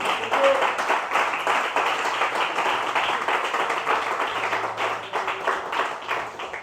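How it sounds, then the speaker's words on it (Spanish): Worshippers in a church in San José, Guatemala, giving a round of applause, with individual claps audible in a busy, somewhat rhythmic patter that softens toward the end. "denle un aplauso al Rey"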